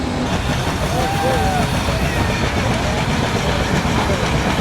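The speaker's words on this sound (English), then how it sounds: "Next we've got a K steam engine coming through next." A K steam engine rolls past at an outdoor threshing show in Edgerton, Wisconsin, its steady mechanical rumble and chugging filling the scene continuously alongside crowd noise and faint voices.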